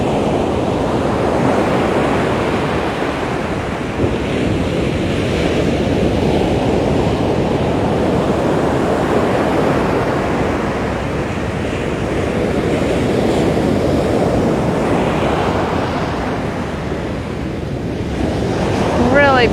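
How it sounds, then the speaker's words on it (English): Ocean surf on a beach at Tavira, a continuous broad roar of breaking waves swelling and easing over about twenty seconds, mixed with steady wind buffeting the microphone. "can you hear the ocean or can you just hear me?"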